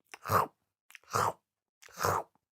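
A goat chews flowers in three distinct crunchy bites, evenly spaced, close and alone.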